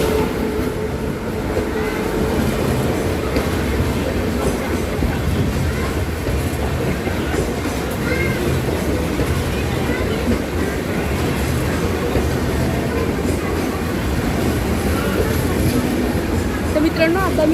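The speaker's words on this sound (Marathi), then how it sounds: "एक्सप्रेस आलेली आहे." The Siddheshwar Express from Mumbai CSMT to Solapur rolls into a station platform, a loud continuous rumble of wheels and carriages with rhythmic clatter and steady noise throughout, while someone talks over it.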